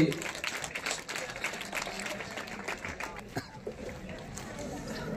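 Applause from the audience at the opening ceremony of an under-17 boys' and girls' baseball competition: a sustained, fairly loud wash of many hands clapping, with voices mixed in through the crowd noise.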